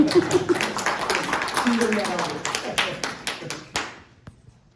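An audience applauds in a lecture hall at a university alumni gathering, a burst of clapping that begins under laughter and talk, then thins to scattered claps and fades out.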